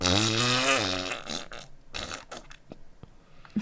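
A person imitates a fart with the mouth in a long, wavering buzzy blast that slides in pitch, followed by a few shorter sputtering pops and clicks, close and loud.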